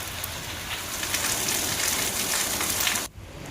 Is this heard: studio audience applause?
no